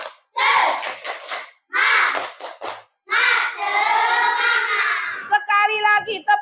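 A class performs the rhythmic tepuk semangat spirit clap in a classroom. Short bursts of group clapping alternate with chanted children's voices in a patterned call, with sharp pauses between phrases and a longer sustained shout near the end.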